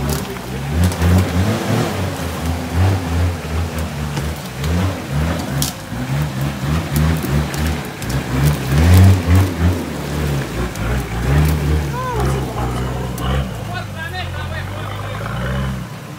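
A car revs hard and spins its wheels in deep mud at an off-road mud fest, the engine droning and surging throughout while people shout and talk loudly nearby.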